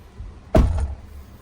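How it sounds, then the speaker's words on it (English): A single solid thump as the door of a 2023 Toyota Tundra SR5 Double Cab pickup swings shut, heard from nearby with a short rattle afterward. "Shut the door."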